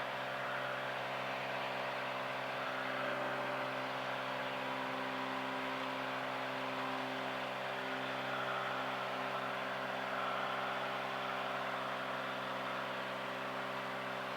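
Cirrus SR22 airplane engine during a climb, heard from inside the cabin as a steady, even drone with a constant tonal hum and no break.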